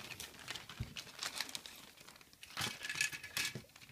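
Plastic parts bag from a Revell 1957 Chevy Black Widow model kit being cut open, close crinkling and rustling of thin plastic with small snips, quiet and irregular, no talking.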